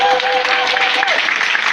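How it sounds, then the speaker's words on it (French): An audience breaks into brief, dense applause at a health talk, the clapping loud and continuous while a voice carries on faintly underneath. "Est-ce qu'on peut applaudir pour lui?"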